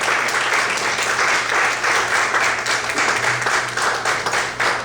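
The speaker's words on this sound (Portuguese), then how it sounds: "Vamos aplaudir ao Senhor Jesus." Church congregation clapping during a Sunday morning service, a continuous dense round of applause from many hands, steady and fairly loud for the whole stretch.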